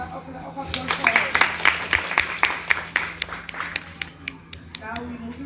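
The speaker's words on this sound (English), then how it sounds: "Another round of applause for us." A round of applause from a school class, uneven hand claps rising and falling in quick bursts for several seconds, close and moderately loud, with some voices chattering faintly underneath.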